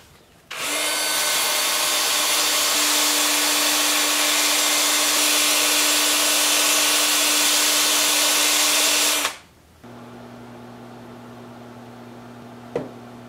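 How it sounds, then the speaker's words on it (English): A power sander works the bottom of a spalted alder bowl on a workbench, a loud steady whine running nine seconds before stopping abruptly, leaving a quieter hum and a single small knock. "That just leaves a little bit of sanding to do on the bottom."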